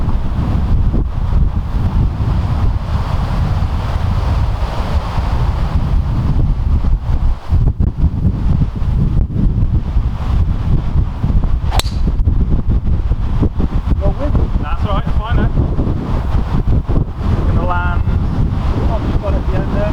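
Strong wind buffets the microphone on a golf course, a constant loud low roar with gusty rumble throughout, while a few faint voices and brief bird-like chirps sit beneath it.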